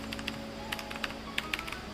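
Keys clack on a Tecware RGB mechanical keyboard in a short, irregular burst of crisp, close, fairly quiet presses, with no speech.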